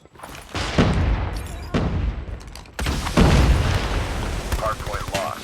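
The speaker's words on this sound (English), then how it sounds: "Grenade out!" A grenade explodes in an online shooter match, booming loudly and close, followed by more heavy blasts and gunfire. Game voices call out over the din.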